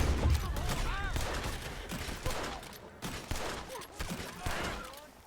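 Gunfire in the video game Red Dead Redemption 2: a rapid volley of shots crackles over several seconds, bursts clustering then trailing off, with game ambience beneath.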